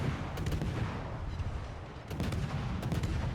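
Warship secondary guns firing in World of Warships, aboard the Marceau: a steady roar of distant booming fire with repeated muffled blasts and a few sharper reports, continuous throughout with no talking.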